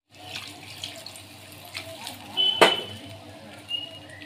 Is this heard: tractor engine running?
no